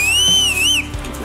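A single sharp, high whistle, briefly wavering in pitch and loud and close, is blown to call horses on a ranch, then stops abruptly.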